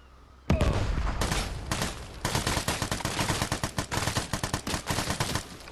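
Rapid bursts of gunfire from a weapon in the multiplayer shooter game Vigor, a sudden loud opening shot followed by a dense, rhythmic stream of close automatic fire with short pauses between bursts.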